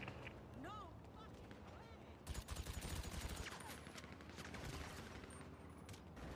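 Bursts of automatic gunfire in the survival game Rust, a dense fusillade of rapid shots starting abruptly partway through and continuing, loud and close, with a voice talking briefly before the firing.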